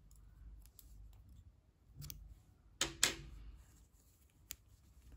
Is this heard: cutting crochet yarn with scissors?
yes